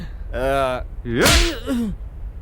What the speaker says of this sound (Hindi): थप्पड़ क्यों मारा?